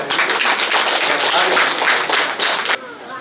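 An audience claps for Kishore Kottari, a city corporation councillor, at a community gathering. A dense burst of applause lasts under three seconds and then stops abruptly.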